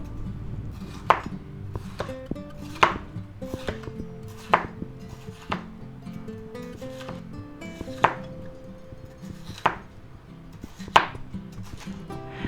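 A knife cuts vegetables into julienne strips for a pork stir fry, each stroke a crisp thud on the board, about one every second or so, steady and close over soft background music.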